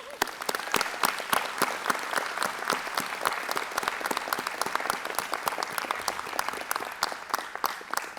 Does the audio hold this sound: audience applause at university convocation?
yes